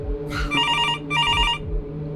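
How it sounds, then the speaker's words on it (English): An old telephone bell ringing at night in a house: two loud, close, rattling rings separated by a short pause, over a low hum. "The sound of that phone ringing had become sickening"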